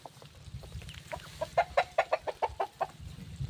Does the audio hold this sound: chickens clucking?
yes